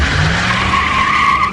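A car tire screech sound effect fired from a radio show soundboard, one sustained loud squeal lasting over a second with no talking over it.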